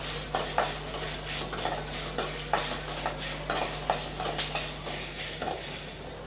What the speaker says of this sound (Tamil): இதில் ஒரு அஞ்சு வரமிளகாய் சேர்த்துடலாம் சேர்த்து அதையும் சேர்த்து நல்லா வறுத்து விட்டுக்கலாம்